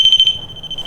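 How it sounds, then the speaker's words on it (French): A basic battery door alarm, rigged for a paranormal investigation in a house, sounds a loud, piercing high-pitched electronic tone: a few quick pulsing beeps that merge into a sustained beep, close by. "C'est une alarme de porte de base,"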